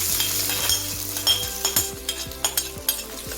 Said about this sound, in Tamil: இதில் வந்து கடுகு உளுத்தம் பருப்பு, வெந்தயம் ரெண்டும் இதில் கொட்டிக்கிறேன்.